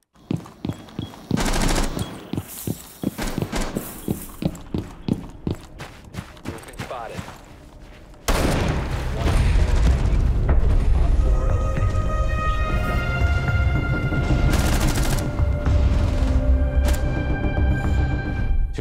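Rapid automatic gunfire in Rainbow Six Siege, a dense string of sharp shots for about eight seconds, then a louder continuous wash of game noise with ringing tones and further bursts.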